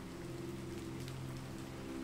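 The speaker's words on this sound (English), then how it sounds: "The first fat drops of rain begin to fall" Steady rain falls through the night on a sprawling manor property, a soft continuous hiss with no distinct drops standing out, fairly faint and even throughout with no voices.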